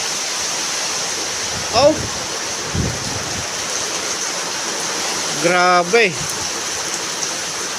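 Heavy rain pours down in a dense, steady roar that fills the whole stretch, while a voice briefly exclaims twice above the downpour.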